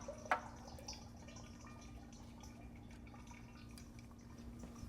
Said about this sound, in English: Loosen up that filter while I wait for that oil to finish draining.